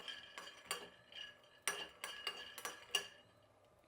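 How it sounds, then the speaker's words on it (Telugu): Peanuts are stirred while roasting in a pan, giving a quiet run of irregular metallic scrapes and clinks from the spoon against the pan, about ten distinct strokes. "పల్లీలు కూడా పచ్చి వాసన లేకుండా వేయించుకోవాలండి, అప్పుడే బాగుంటుంది."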